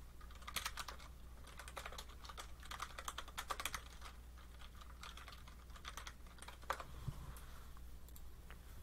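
Computer keyboard typing at a login prompt, a quick run of close, light key clicks that speed up and pause in irregular bursts, then a couple of sharper final taps as the entry is submitted, with no voices.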